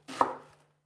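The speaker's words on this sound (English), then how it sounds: "So I'm gonna cut the onion." A single knife chop through an onion on a cutting board, one close crisp thud that fades quickly into silence.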